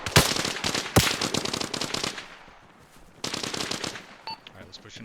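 Automatic gunfire in the video game Arma Reforger, several rapid bursts with sharp individual shots, a pause, then another burst, fairly close and loud.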